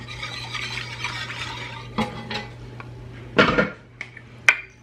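A whisk stirs milk into a sauce in a pan, giving soft scraping and swishing, then a few sharper clinks of metal against the pan. The sounds are close and fairly quiet over a steady low hum.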